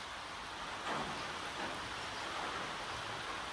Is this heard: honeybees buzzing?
no